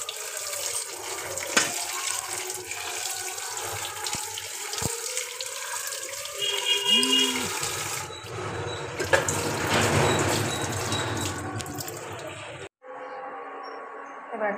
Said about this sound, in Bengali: এবার একটু ধুয়ে নেবো ভালো করে।